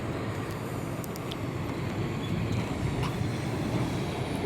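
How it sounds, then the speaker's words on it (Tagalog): Continuous rumbling road noise of vehicles passing nearby, a dense steady roar with occasional higher mechanical squeaks. "Ayan, mga sasakyan,"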